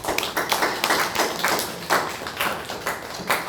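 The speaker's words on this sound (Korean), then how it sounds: "이재호 성도님께 박수로" Church congregation at a Korean Sunday worship service clapping together in a quick, uneven patter of individual claps, fairly close and clear, lasting a few seconds.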